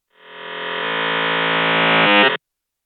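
A harsh, buzzing electronic tone swells steadily, then sputters with a glitchy downward shift before cutting off abruptly, like electrical equipment failing.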